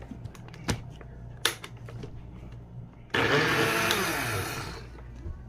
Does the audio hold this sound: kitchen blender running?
yes